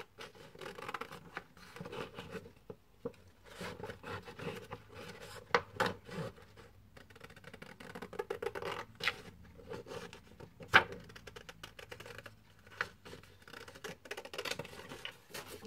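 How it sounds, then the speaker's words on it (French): Scissors snip and scrape through paper in a quiet stream of short cuts and rustles, close and faint, with no talking. "Prenez votre ciseau"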